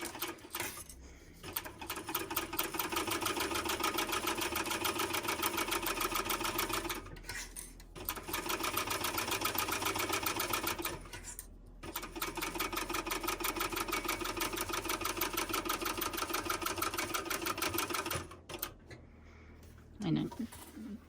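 A sewing machine stitches a pouch seam at a 3.5 stitch length in several long, steady runs of rapid even whirring, broken by short pauses, with a voice talking during the stops.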